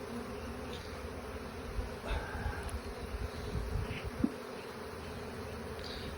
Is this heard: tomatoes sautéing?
no